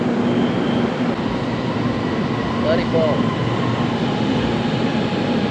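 A local train in Malaysia rumbles steadily past nearby, a broad continuous roar with a faint squeal midway, and a voice briefly speaks over it.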